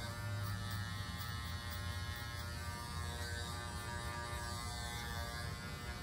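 Electric hair clippers buzz continuously during a skin fade haircut, a steady close motor hum with faint variations as the blade moves across the head, with no talking.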